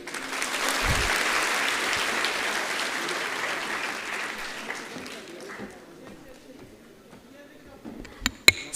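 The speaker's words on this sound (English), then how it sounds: "a huge round of applause" Audience applause at a university orientation program, a broad sustained clapping that fills the hall, then thins and fades toward the end, with a few sharp isolated claps near the close.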